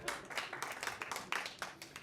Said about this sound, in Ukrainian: Прям оплески.